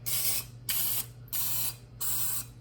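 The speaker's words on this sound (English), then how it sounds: "we're gonna take our spray, and we're gonna spray it in each one" Cooking spray is sprayed into a cupcake pan in four separate short hissing bursts, each under half a second, evenly spaced with brief pauses between them. The sound is close and clear, with no speech.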